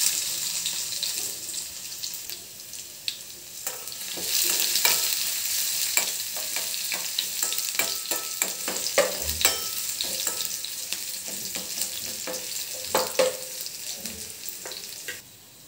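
Mashed garlic frying in hot tempering oil (popu) for a mango pachadi, a bright, continuous sizzle with crackles and spits that swells and fades as the pan is stirred, close up and without talking.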